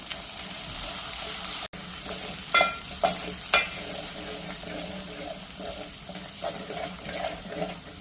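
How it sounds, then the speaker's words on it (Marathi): Kolhapuri onion-garlic masala is stirred into hot oil for a Kolhapuri katachi amti, with a steady sizzle, a brief dropout, and several sharp spoon scrapes and knocks against the pot. "कोल्हापुरी कांदा लसूण मसाला आहे, तो टाकते 2 चमचे। मिक्स करून घेऊया।"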